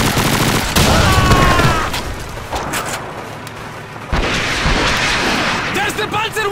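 Panzerwerfer rocket artillery fires in a Call of Duty battle, a series of loud whooshing blasts and booming impacts in a chaotic firefight, with shouting voices over the din.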